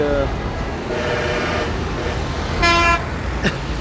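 Traffic is jammed on GT Road at Rawat near Islamabad, with engines idling, several short car and truck horn toots, and one longer, louder blast near the end amid the steady street din.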